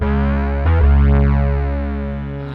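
A dry, unprocessed electric bass guitar note rings out alone, sustained with steady harmonics and a slight re-pluck near the start, fading slowly.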